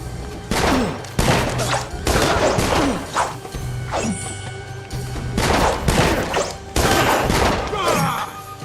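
Gunfire in the fantasy action RPG Dungeon Siege III, a series of loud sharp cracks and impacts in irregular bursts during a battle, with no talk over it.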